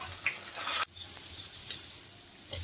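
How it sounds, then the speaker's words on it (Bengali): Rice grains frying in a pan for plain pulao, a steady soft sizzling and rustling with brief stirring scrapes, close and fairly quiet, no voices. "এভাবে চালগুলো পুরো ভাজিয়ে নিচ্ছি সুন্দর করে"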